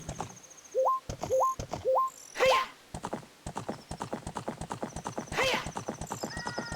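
In The Legend of Zelda: Ocarina of Time, a horse's hooves beat out steady, rapid clip-clops, joined by several short rising whinnies and occasional game chimes, all at close range.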